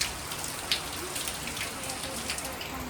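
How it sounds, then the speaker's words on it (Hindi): A downpour of heavy rain falls outdoors at Patnitop, a thick, even wash of drops pattering on surfaces, close and constant, with a faint voice briefly beneath it. "ये देखो कितनी तेज़ बारिश हो रही है"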